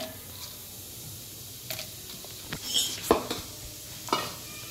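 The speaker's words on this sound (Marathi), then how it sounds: "आपण हे बदाम या तुपामध्ये भाजून घेऊया।" Almonds roasting in ghee in a pan give a faint sizzle under scattered louder clinks and scrapes of a spoon against the pan.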